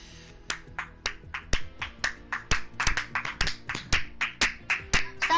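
Sharp hand claps repeat in an irregular burst, some quick doubles, close and fairly loud with nothing else underneath.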